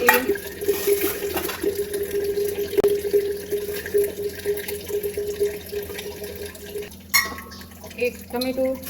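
Water sloshes and drains as soaked dal and rice are rinsed in a kitchen, with running water, clinks of a steel vessel and a voice talking over it.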